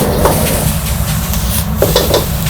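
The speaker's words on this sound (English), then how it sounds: "Fry for about 30 seconds." Aubergine and minced pork frying in a wok with sauce, a continuous close sizzle broken by a few clattering scrapes of a utensil against the pan, with no talking.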